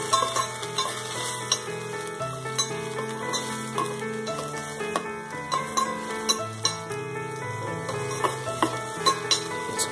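Chopped tomatoes cook with sautéed onions in a pan for a gravy base, a soft sizzle under repeated clinks and scrapes of a spoon stirring against the pan, close and fairly quiet.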